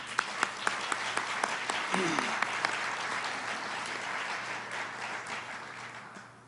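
A room full of people applauds, starting with a few sharp claps that swell into steady clapping before fading out, with a voice briefly heard.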